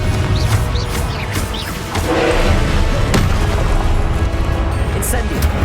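Confringo spell blasts from Hogwarts Legacy on Xbox Series X boom loudly in a couple of heavy impacts, with a spoken incantation over the game noise.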